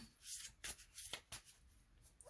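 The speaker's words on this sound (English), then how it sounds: "I'm going to shuffle it a bit more." Soft riffling and flicking of tarot cards being shuffled by hand, several quick bursts in a row, close and quiet.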